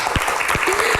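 Audience applause in a TV studio, a steady dense patter of many hands clapping with a few sharper nearby claps.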